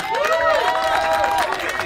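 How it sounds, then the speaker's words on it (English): Outdoor rally crowd at the Louisiana State Capitol in Baton Rouge applauding and cheering steadily for a local leader, with whistles and shouts rising above the dense clapping throughout. "Clap for him"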